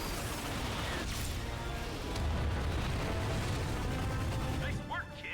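Ion cannons fire and explosions rumble in the Ratchet and Clank video game on PS4, a dense, sustained mechanical roar with booming bursts that cuts off abruptly near the end, followed by brief faint voices.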